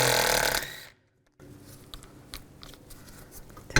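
A 12mm socket works undercoated bolts loose on a 1997-2001 Honda CR-V trailing arm, giving a sharp ratcheting burst, a brief pause, then scattered soft clicks and scrapes close by.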